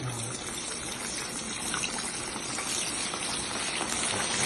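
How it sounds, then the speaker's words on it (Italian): Comb fish dropped into boiling oil in a fish-shop kitchen sizzles and crackles in a steady, dense hiss that runs unbroken throughout, close and fairly loud. "olio bollente, lo mettiamo dentro e lo facciamo friggere"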